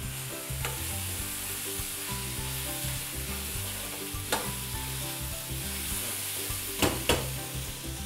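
Boiled corn, boiled peanuts, salt and black pepper powder stirred together in a hot pan, with a continuous close sizzle and a few sharp spoon scrapes against the metal, no talking.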